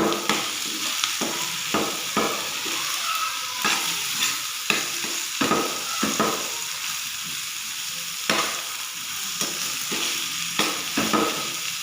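Potatoes fry in a hot pan with a constant sizzle, broken by regular scraping stirs of a spatula every second or so. The sound is close and even, with no talking.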